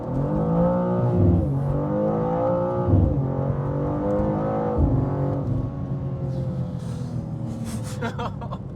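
A BMW M2 G87 accelerating hard through first and second gear, its engine note rising in loud sweeping revs with a brief dip at each upshift, heard from inside the car on a sunny day.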